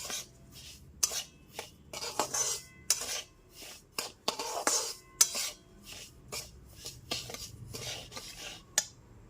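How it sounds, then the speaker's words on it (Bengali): Semolina roasting in ghee over a low flame, stirred without pause, making repeated close scrapes and clinks of a spoon against the pan in an uneven rhythm, no talking. "গ্যাসের ফ্লেমটা লোতে রেখে ঘিতে হালকা করে ভেজে নিতে হবে ক্রমাগত এরকম নেড়ে নেড়ে ভেজে নিতে হবে"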